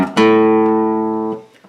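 A single guitar note rings out clearly and sustains, slowly fading over about a second before a faint touch at the end.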